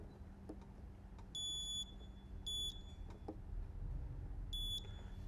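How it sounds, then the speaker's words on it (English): A vinyl wrap cutting machine working Avery Dennison SW900 film gives three short high-pitched electronic beeps, spread across the clip, over a low steady hum. "I mean, yeah, it definitely beeps."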